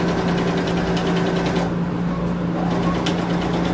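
A sewing machine runs steadily, stitching fabric in a camper setting, with a continuous close mechanical hum and motor whir throughout and no talking.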